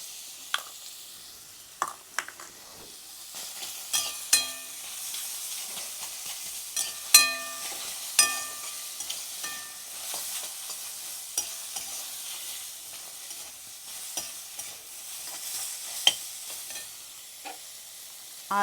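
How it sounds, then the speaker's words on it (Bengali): Ginger garlic paste frying in a pan with whole cumin, bay leaf, dried chilies and spices, a soft steady sizzle under repeated clinks and scrapes of a spoon stirring against the pan, no talking. "আর এখানে দিয়ে দেবো আদা রসুন বাটা 1 চামচ।"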